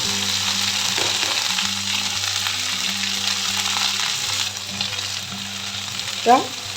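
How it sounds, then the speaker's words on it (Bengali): Fenugreek leaves fry in melted ghee in a hot wok over a gas flame, giving a steady, close sizzle throughout with a brief stirring scrape near the end. "মেথি শাকটা একটু ঘি দিয়ে ভেজে নেবো"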